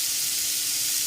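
Ground beef sizzles steadily in a hot pot on the stove, a dense continuous frying hiss close by with no talk over it.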